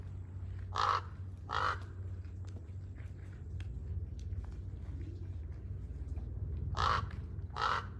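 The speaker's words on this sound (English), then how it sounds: "I think that's a raven." A raven calls on a Las Vegas street in four harsh caws, paired in two doublets near the start and end, loud and fairly close over steady low traffic rumble.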